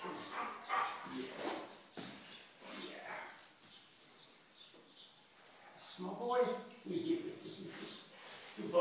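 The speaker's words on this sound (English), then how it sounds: "Crazy dog." A big, soft-natured dog vocalizes in short, fairly faint barks and whines in a quiet home, mixed with a person talking affectionately to it nearby.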